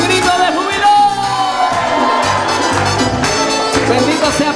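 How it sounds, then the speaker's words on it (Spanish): A church congregation shouts for joy at a fasting and prayer service in Aguadilla, a loud, sustained crowd roar with whoops and cries rising and falling throughout. "Un grito de júbilo."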